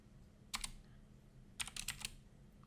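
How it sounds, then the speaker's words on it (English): Computer keyboard typing comes in two close, faint bursts of quick key clicks, one short and one longer, over a low steady hum with no talking. "I keep typing the wrong things."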